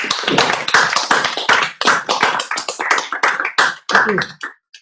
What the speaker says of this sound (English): give a round of applause to Daniel